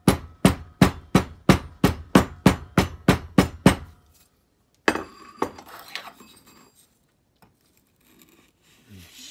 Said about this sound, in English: So when I pound this, it's going to shake the camera.